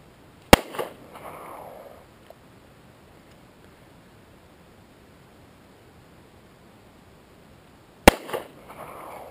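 Two sharp, loud gunshots from a .38 Special revolver crack outdoors about seven seconds apart. Each shot is followed by a brief echoing tail, with quiet ambient hiss between them.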